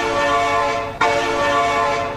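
A loud, sustained train horn blares in a video game, holding one harmonic chord for about two seconds with a brief break partway, no voices over it.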